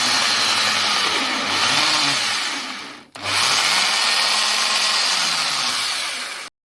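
A metal lathe turns a steel bolt down to 21 millimetres, a loud, steady hissing cut with a low motor drone that stops briefly midway, then resumes just as strong.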